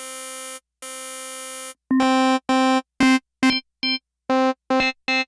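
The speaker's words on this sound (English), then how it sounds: "So that one's called drawbars. You can hear it has a characteristic of an organ." A Sequential Pro 3 synthesizer plays its drawbars wavetable with an organ-like tone: two long sustained notes, then a run of shorter detached notes with rich, bright harmonics, all loud and close with no talking.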